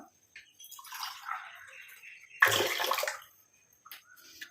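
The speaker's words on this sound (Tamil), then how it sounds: "ஒரு டம்ளர் அளவுக்கு தண்ணி சேர்த்துக்கலாம்" Water gushes and splashes into a bowl in one short pour of about a tumbler's worth while making a hair dye, with faint handling sounds before and after.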